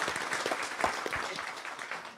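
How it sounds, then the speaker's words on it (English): Brief burst of clapping from a fan convention audience at an EverQuest gathering, moderately close and lively, with individual claps standing out through the short ovation. "Round of applause for that"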